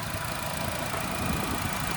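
A 2026 Ford Ranger's 2.3-liter turbocharged four-cylinder idles with its engine bay open, giving a steady, even hum heard close up with no talk over it.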